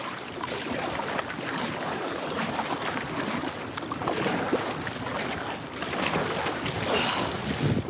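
Wind buffets the microphone outdoors by the water during catfish fishing from a small boat in a current. It is a steady broadband roar throughout with no talking.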